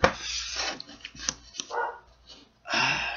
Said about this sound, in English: my dog is really starting to piss me off